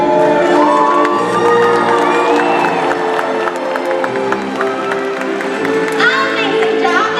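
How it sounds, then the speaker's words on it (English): A large audience at the SeaWorld Orlando Orca Encounter show cheers, whoops and shouts, with children's voices mixed into a loud, steady crowd roar that swells toward the end. "let's give it a great big cheer"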